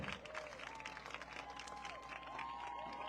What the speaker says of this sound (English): a great big round of applause to the 2024 Division III state runners-up, the Eagles from BEREAN Academy